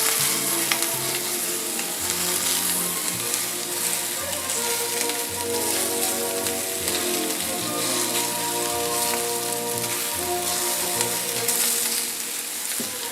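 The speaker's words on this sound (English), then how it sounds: "We're just getting them browned a little bit." Homemade meatballs brown in a frying pan with a loud, dense, unbroken sizzle that crackles like rain, close up and steady for the whole stretch, with no voices.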